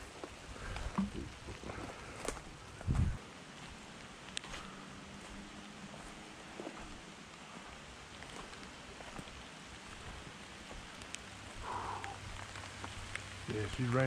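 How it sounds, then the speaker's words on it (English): Rain falls steadily in the woods on a hunting and trapping trip, a constant soft patter with scattered drops and small knocks, with a voice talking at times over it. "Yeah, it's raining. Raining pretty good back here."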